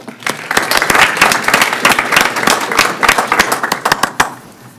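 An audience at a county school board of education meeting applauds honored educators with a loud, close burst of many overlapping claps that holds strong for several seconds before thinning out at the end.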